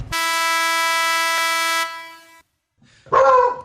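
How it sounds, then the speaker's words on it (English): A dog barks in a short, loud burst near the end, after a long steady horn-like tone that cuts off into a brief silence. "The dog is barking at any noise he hears."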